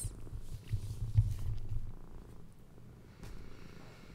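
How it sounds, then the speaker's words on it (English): A cat purrs softly while sitting on a person's lap, a low continuous rumble that is steady at first and then fades quieter, with no voices. "I have a cat sitting in my lap"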